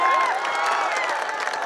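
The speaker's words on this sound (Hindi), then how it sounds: "एक बार पूरे मजमे से तालियां बजा दे" A crowd at a mushaira, an Urdu poetry recital, claps and cheers in a continuous, lively burst, loud and close, with scattered voices mixed into the applause.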